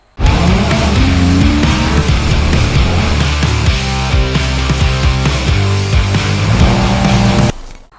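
A 1250 HP twin-turbo choppy-cammed C8 Corvette tuned with HP Tuners roars under load, a loud, sustained engine note with strong harmonics and shifting pitch, then cuts off abruptly near the end.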